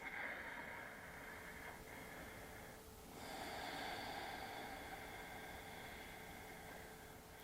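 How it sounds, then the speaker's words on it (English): Slow, deep breaths are drawn in and pushed out during a breathing exercise for digestion, soft and airy, with a long inhale and exhale shifting over a faint steady hiss. "just take a couple more breaths"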